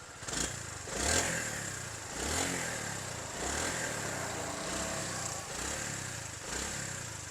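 A Suzuki GR150 150cc motorcycle engine idles close by with a steady, mild putter, rising in a few revs at regular intervals.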